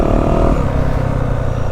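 A 2023 Yamaha YZ450F dirt bike engine runs loud and close, its rough, throaty roar holding steady and then dropping slightly as the throttle eases.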